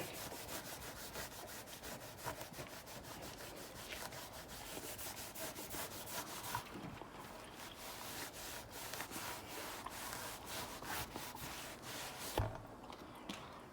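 Restorer is rubbed by hand into sun-faded plastic, making a soft, steady scrubbing with quick back-and-forth strokes, faint and close, with no voices.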